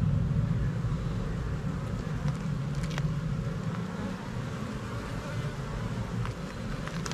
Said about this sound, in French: Oh là, il y a un paquet d'abeilles.